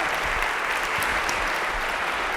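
Continuous, full crowd applause fills the hall at a political speaking event, many hands clapping together in an even, loud roar with no break or speech over it.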